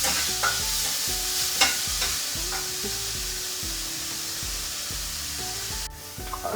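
Onions frying in a pan for a besan cheela filling, stirred with repeated rhythmic scrapes over a constant close sizzle, with no talking.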